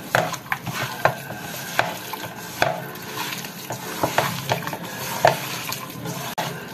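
Pabda fish being mixed by hand with turmeric, chili powder, cumin, salt and oil, giving wet squelching and soft slapping strokes in an irregular rhythm, close and fairly quiet, with no talking.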